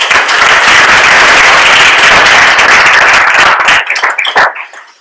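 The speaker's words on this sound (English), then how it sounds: "Round of applause for Isaac." Audience applause for a finalist at a data awards event, loud close clapping that stays full for about four seconds before breaking into a few scattered final claps and stopping.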